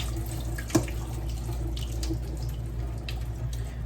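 A kitchen tap runs steadily while greens are washed under it, a soft, even stream of water with a brief sharp knock near the start, heard fairly close and alone.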